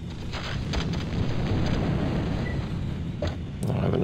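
A thumper weapon in Battlezone 98 Redux shakes the ground with a deep, rumbling roar that swells and holds steady, loud and close, with a few sharp cracks breaking through near the end.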